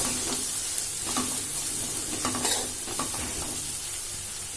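Amaranth leaves sizzle steadily in a hot pan after turmeric and salt go in, with a spoon scraping and stirring through them in irregular strokes. The frying is close and continuous, and no one speaks.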